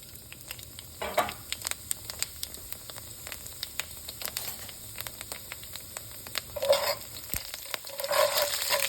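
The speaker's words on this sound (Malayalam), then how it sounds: "അരിയെല്ലാം ഒന്ന് പൊട്ടട്ടെ." Red kuthari rice roasting in a pan, a quiet steady sizzle with scattered small crackles and pops, interrupted by a few louder stirring scrapes.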